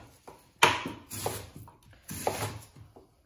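A kitchen knife chops vegetables into chunks for mirepoix, a few sharp, close thuds on a cutting board spaced irregularly, with quiet handling noise between strikes.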